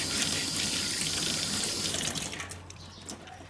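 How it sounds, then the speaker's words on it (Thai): Water streams from a tap while a hairbrush is washed under it, a loud steady gush that thins and turns splashier toward the end as the flow is disturbed, heard close with no talk. "ส่วนแปรงนะคะ ก็ล้างค่ะเมื่อใช้เสร็จก็ล้างค่ะ"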